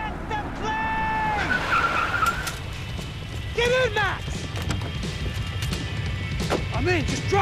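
A car drives and skids in the video game Max Payne 3, with tire squeals and engine noise mixed with game music and sound effects, plus brief shouted voices.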